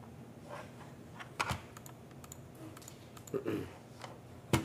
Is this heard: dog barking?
no